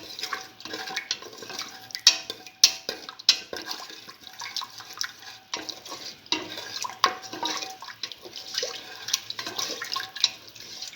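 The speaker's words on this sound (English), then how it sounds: "Mix thoroughly." Stirring a split pigeon pea and water mixture in a pot before pressure cooking, with repeated scraping and clinking of a utensil against the pot in an irregular rhythm over wet sloshing, close and moderately loud.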